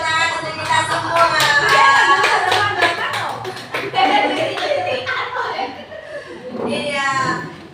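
Teachers at a school workshop clap their hands in a brief burst of sharp, distinct claps, followed by chatter and light laughter from the group as voices continue over the room.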